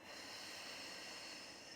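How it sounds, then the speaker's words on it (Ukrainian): Deep, drawn-out inhale through the nose during a breathing exercise, close and soft, with a steady airy hiss lasting under two seconds and no talking. "Вдих глибокий через ніс"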